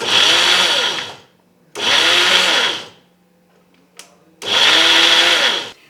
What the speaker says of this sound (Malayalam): ഇതെല്ലാം കൂടെ ഒരുമിച്ച് മിക്സിയിൽ അടിച്ചെടുക്കാൻ പോകുക.